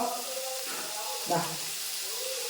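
Shallots and curry leaves frying in a pan with salt, a steady soft sizzle and hiss with a brief louder crackle partway through.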